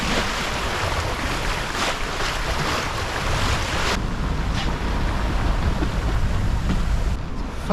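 A sailboat under full sails runs at speed on the open sea near the Faroe Islands, with loud continuous rushing water and heavy wind noise on the microphone throughout.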